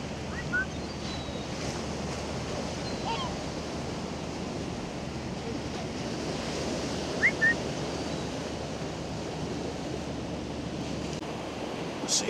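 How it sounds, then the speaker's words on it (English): Sea waves wash onto the shore at Blackpool promenade as the tide comes in, a continuous, even roar of surf mixed with wind noise, with a few faint distant chirps over it. "You can see the sea is just coming in, and it's fantastic just watching the sea, watching the tide."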